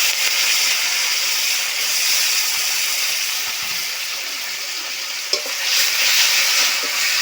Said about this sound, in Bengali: ফোড়নে দিয়ে দিচ্ছি কয়েকটা তেজপাতা আর শুকনো লঙ্কা, আর দিয়ে দেব কিছু পেঁয়াজ আর টমেটো